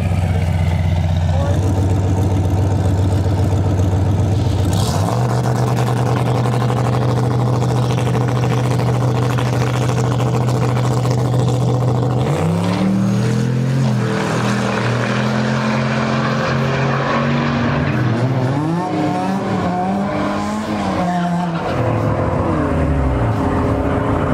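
Drag race car on a no-prep strip making a run, its engine droning steadily loud then climbing through rising revs and shifts, with people talking faintly underneath.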